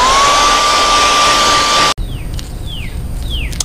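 A heat gun blows loudly and steadily while heat-setting paint on a fishing bait, then cuts off abruptly, leaving quieter room noise with a few faint chirps.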